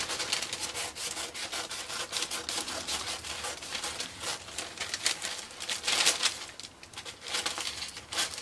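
A circle is cut out for a homemade Halloween costume: steady, rhythmic rasping strokes, close and moderately loud, continuing throughout without pause.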